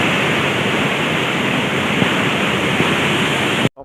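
Steady, loud rush of flowing river water near a riverside cottage, broadband and constant with no voices, cutting off abruptly at the very end.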